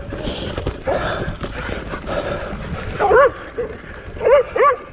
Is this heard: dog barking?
yes